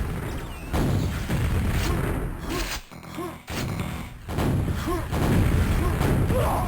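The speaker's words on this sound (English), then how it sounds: "Great rockets by reload there from that position." Rocket explosions from a competitive AU vs NA video game duel: a dense run of loud, booming blasts and thuds, broken by a short lull in the middle, with faint commentary beneath.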